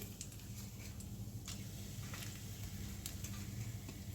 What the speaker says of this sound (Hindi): अब इसी में हम तेज पत्ता डाल देते हैं।